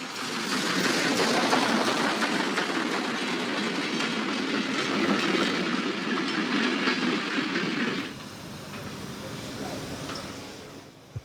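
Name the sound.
train hauled by class 142 locomotive arriving at station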